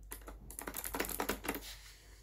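An eBlue computer keyboard clatters with quick, close clicking keystrokes in an uneven burst during gameplay, then the typing stops and the last moment is quieter.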